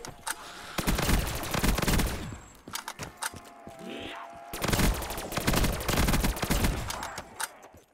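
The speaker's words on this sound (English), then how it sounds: "Good old Galil, man. I kind of miss using this gun." Galil rifle gunfire in Black Ops 3 custom zombies, long rapid automatic bursts with a brief pause between them, loud and close.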